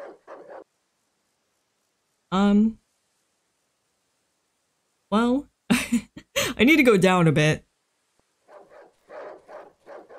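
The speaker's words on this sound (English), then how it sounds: "Dog?" A dog barks in the dark woods of Darkwood, a few sharp, separate barks and yelps standing out loud against near silence, with someone talking in between.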